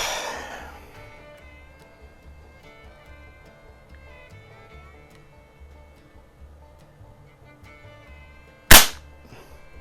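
A single sharp shot from a Beeman AR2078 CO2 target rifle cracks near the end after a long quiet stretch with faint background hum, close and loud.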